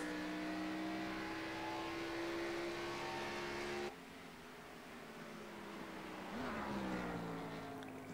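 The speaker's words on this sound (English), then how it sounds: "Sounds like Hesgard is actually downshifting." Race car engine in the iRacing game, a Grand National Series stock car at New Hampshire, droning steadily at high revs, then cutting off sharply and dropping to a lower pitch as it downshifts before rising again.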